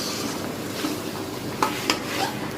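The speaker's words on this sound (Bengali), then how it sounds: "এভাবে করে নাড়াচাড়া করতে থাকতে হবে।" Chicken coated in spices stirred in a pan, a soft continuous sizzle with a couple of light utensil scrapes against the pan, no talking.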